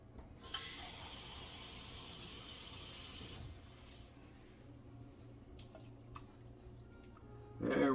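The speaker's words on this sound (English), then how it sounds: "let's just add in a little bit more water" Water pours into a pot of chickpeas in a steady, bright hiss for about three seconds, then cuts off, leaving quieter kitchen noise and a few faint clinks before a louder bump at the end.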